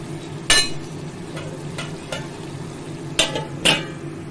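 A spoon stirs bottle gourd curry in mustard oil, scraping the pan in several sharp strokes over a low, constant frying hiss nearby.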